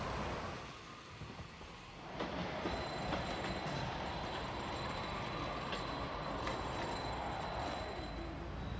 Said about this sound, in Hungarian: Mindjárt jön itt a páratlan vonat